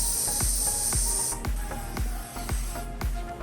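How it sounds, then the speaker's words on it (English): A hand spray bottle mists light fabric on a banshee puppet mask, giving a rapid series of short, sharp hissing spritzes in a steady rhythm, close and fairly loud, with no talking. "Spraying most of this because I want to give the fabric a little bit of weight."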